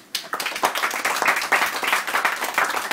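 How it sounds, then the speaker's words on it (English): Applause from a crowd at a 2011 New Year party, dense clapping starting abruptly and continuing steadily, fairly loud and close, with no talk over it. "Round of applause, please."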